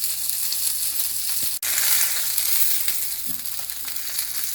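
A salmon fillet sears in a hot pan, giving a loud, continuous close sizzle with a brief dropout and a faint scrape, alone without voices.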